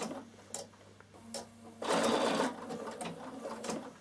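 A Bernina sewing machine, lifted with a knee control, stitches boiled wool in a loud, brief whirring burst, surrounded by quieter mechanical clicks and shuffling as the fabric is repositioned.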